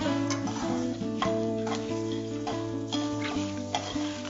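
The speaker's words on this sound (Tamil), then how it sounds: "மசாலாக்கு தேவையான பொருட்கள்லாம் நல்லா வந்து நல்லெண்ணெயில் வறுத்தாங்க" Chana dal, black pepper, dried red chilies and fenugreek seeds fry in sesame oil, with soft sizzling under regular clinking stirs of a spoon against the pan, no voices.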